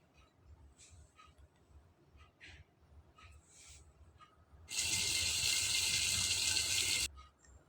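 Water gushes into a pan of broad beans and potatoes for a fish curry: a loud, steady splashing pour of about two seconds that stops abruptly after quiet pan clinks.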